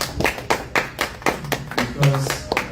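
An audience gives a brief round of applause for Mr. Victor King at a business talk, with sharp, uneven claps that are fairly close and mixed with a voice talking over them.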